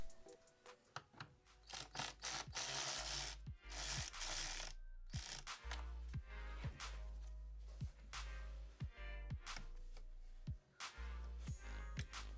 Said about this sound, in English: Then I'll be using an 8mm socket to remove the band clamps.